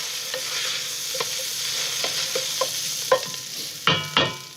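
Tomato paste caramelizes with vegetables in a soup pot, a steady sizzle of frying under a spoon scraping and stirring, with occasional louder knocks against the pot near the end.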